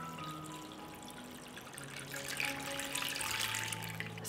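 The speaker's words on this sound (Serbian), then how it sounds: "Sipam vodu u šerpu do visine poklopca." Water is poured into a cooking pot holding jars set on a cloth, a steady close trickle that grows fuller and louder as the pot fills.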